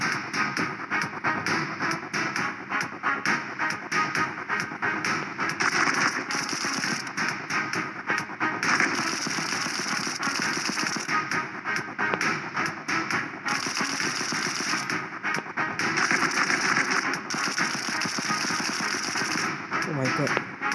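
Gunfire in the mobile shooter game Cover Fire, a steady stream of rapid crackling shots, dense and continuous for about twenty seconds, with someone speaking over the firing.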